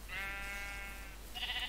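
A sheep in Minecraft gives a short wavering bleat, clear and close, then a second brief bleat follows near the end.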